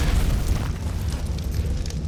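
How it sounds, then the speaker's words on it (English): A volcanic dodo in the ARK Primal Nemesis mod for a video game fires fireballs, producing a steady deep roaring, rumbling blast that stays loud and continuous throughout, with no talking. "We're starting off with the volcanic dodo here, and as you can see, its special ability is to fire off fireballs."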